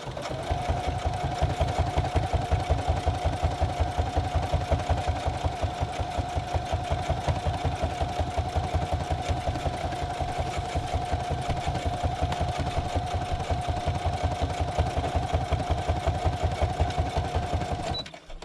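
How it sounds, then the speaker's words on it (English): A sewing machine back stitching over the edge of an external pocket on a handmade traveller's notebook, running in a fast, even mechanical chatter with a steady hum, close and continuous for the whole stretch with no talk. "I just want to do quite a few back stitches until I'm all the way over the edge."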